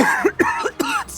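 A narrator coughs as if choking on smoke while pushing deeper into a burning cage to rescue an elephant. Three or four harsh, close coughs come in quick succession, loud and alone, with no speech between them.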